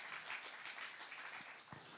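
A church congregation at a Saturday worship service claps briefly, a soft, steady patter of many hands, somewhat distant.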